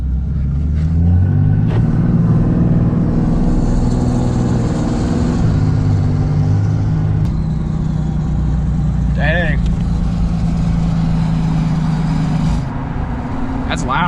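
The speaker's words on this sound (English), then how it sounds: "That's loud, that exhaust brake." A Cummins diesel RAM pickup truck's exhaust brake drones loudly and steadily with a deep, rumbling engine roar, while people talk inside the cab.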